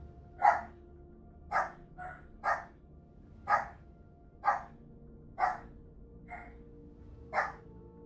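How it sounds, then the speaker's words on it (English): Puppy barks from the Blue Prince video game come in a regular series of about eight short, bright yaps at roughly one-second intervals, close and distinct over a low, quiet backdrop. "Puppies."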